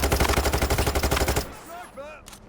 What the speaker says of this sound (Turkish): Keskin nişancılar var.